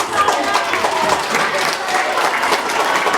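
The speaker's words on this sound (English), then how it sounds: "Give these guys a round of applause." An elementary school assembly crowd claps steadily in a room, a dense patter of applause that holds at an even level for a few seconds.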